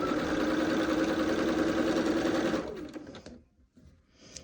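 A sewing machine stitches a quilt block without pins, running in a loud steady whir for a couple of seconds before stopping abruptly into near quiet.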